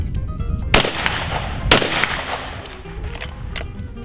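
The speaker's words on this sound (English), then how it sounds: "That was shot number 6." Two sharp, loud blasts from a 20 gauge shotgun firing reloaded Fiocchi steel hulls, about a second apart, each followed by a short echoing tail over a noisy outdoor background.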